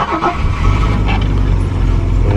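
A 1970s classic car with an automatic gearbox in park and a freshly primed fuel pump starts up, settling into a loud, steady engine idle close by.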